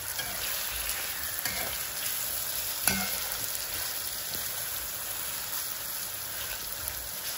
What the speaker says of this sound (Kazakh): Қуырып аламыз, қызартып.